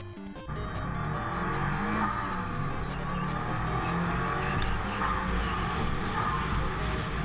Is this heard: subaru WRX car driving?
yes